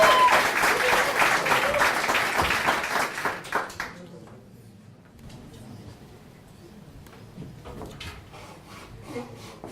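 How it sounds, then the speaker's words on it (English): Audience at a London startup pitch event bursts into strong applause that lasts about four seconds, then dies away into a quieter room with faint murmurs and scattered sounds. "a big round of applause for Dio."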